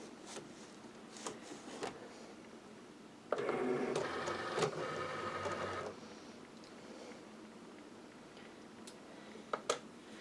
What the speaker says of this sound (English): let me just get it in the printer